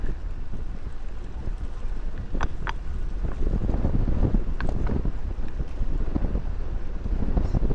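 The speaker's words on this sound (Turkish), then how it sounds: "Yalnız rüzgar fena." Strong wind roars and buffets steadily at Marmaris national park, with heavier gusts and a few brief clicks or knocks mixed into the rumble.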